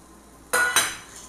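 Onions go into hot oil in a pan for sautéing, giving two quick bursts of clatter and sizzle close by that fade into a softer fry.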